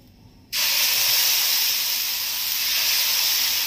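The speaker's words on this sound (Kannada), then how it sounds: "ಎಣ್ಣೆ ಹಂಚು ಕಾಯ್ದಿದೆ, ಎಣ್ಣೆ ಹಾಕ್ಕೊತಾ ಇದ್ದೀನಿ. ಇದು ದೋಸೆ ಹಾಕ್ಕೊತಾ ಇದ್ದೀನಿ ಇವಾಗ" Green moong dosa batter hits a hot, oiled griddle with a sudden loud hiss. The hiss holds steady and close for the rest of the moment.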